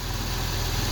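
A smoothly running car engine idles with a steady low rumble and even pulsing, close and continuous with no other sounds.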